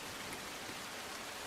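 Steady rain pours over Surat, Gujarat, during the first monsoon downpour that left streets waterlogged, making a dense, even hiss with no pauses and no voices.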